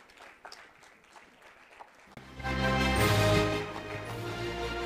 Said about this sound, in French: je pense qu'on peut l'applaudir pour cela, s'il vous plaît